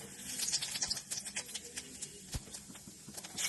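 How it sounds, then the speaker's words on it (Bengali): Cumin seeds crackle and sizzle as they hit hot oil in a wok for tempering, a steady scatter of quick pops and spits at close range with no talking. "এবার কড়াইতে জিরে ফোড়নটা দিয়ে দেব।"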